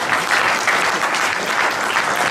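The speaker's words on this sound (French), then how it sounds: "Bravo, on peut l'applaudir" An audience at a comedy show in Aveyron applauds, a dense, continuous wash of clapping that stays loud and even throughout.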